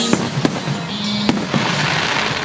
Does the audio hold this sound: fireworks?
yes